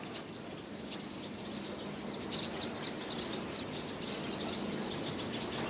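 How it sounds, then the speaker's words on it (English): Birds sing on a spring day on the Fort Defiance campus in the Shenandoah Valley, with faint, far-off chirps over a steady outdoor hiss and no voices. "Except for the sounds of light-hearted birds, all is quiet on the Fort Defiance campus."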